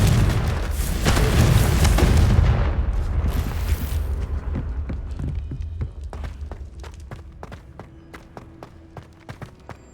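A heavy booming blast from the Confringo explosion spell in Hogwarts Legacy rumbles loudly and fades over several seconds, followed by a run of short sharp impacts and clicking game effects.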